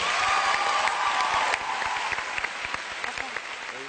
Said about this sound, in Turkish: Büyük alkışlar o zaman hadi Sezai